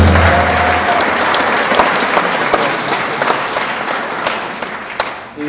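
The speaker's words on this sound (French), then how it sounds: "Vous pouvez applaudir." Loud, dense applause from a jazz concert audience at an outdoor cloister venue, a steady wash of many hands clapping that holds for several seconds before tapering off at the end.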